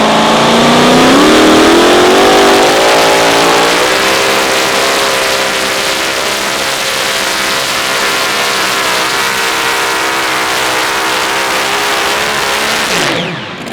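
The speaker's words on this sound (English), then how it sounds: "This is a good running Texas truck, ladies and gentlemen." A Texas 2WD truck at an outlaw truck pull roars close and loud, revving hard then holding a sustained, rising engine howl for over ten seconds before cutting off abruptly.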